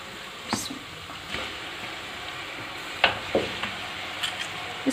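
Beef with ginger garlic paste frying in a pan, a soft, steady sizzle with scattered light scrapes and clinks of stirring, faint and close.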